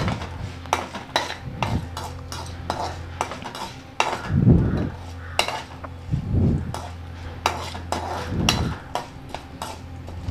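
Tamarind and ginger are sautéed in a pan, with a spoon repeatedly scraping and clinking against the metal during stirring, plus a faint sizzle underneath. The sound is close and fairly loud, with no talking.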